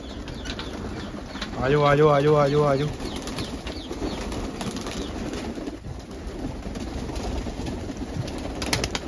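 Pigeons being let out of a loft flap their wings in a loud burst with soft cooing, while a man repeatedly calls them in Punjabi over steady background noise.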